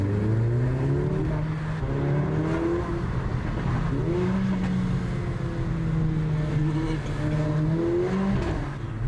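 A Mercedes A45 AMG engine drones and revs through rising and falling gear pulls, heard from inside the car at a loud, steady level.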